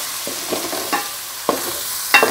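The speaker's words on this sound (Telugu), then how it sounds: "బాగా కలుపుకొని ఫ్రై చేసుకోవాలి" Onion paste fries in oil for an Andhra-style crab pulusu, a steady sizzle punctuated by several sharp scraping stirs of a spoon against the pan, close and fairly loud.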